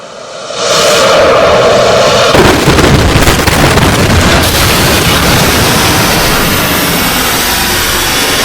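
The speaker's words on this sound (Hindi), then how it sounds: "भारत ने एक और टेस्ट किया है, नाग मिसाइल का टेस्ट किया है" Nag (MK2) anti-tank missile test launch: a sudden loud roaring blast that swells into a sustained, powerful rushing rumble lasting several seconds, heard alone.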